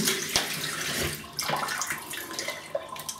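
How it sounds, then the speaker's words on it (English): Tap water runs and splashes as a face and razor are rinsed after a shave with soap, a steady broadband wash with a few brief splashy bursts. "Quick rinse."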